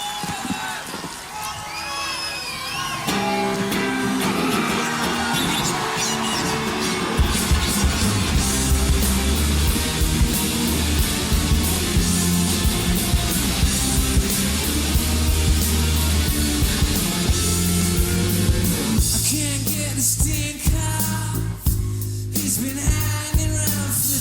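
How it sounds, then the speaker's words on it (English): Crowd cheering and shouting from a played recording, a sustained roar mixed with music that swells and continues loudly for the full stretch, with no talk over it. "listen to that crowd"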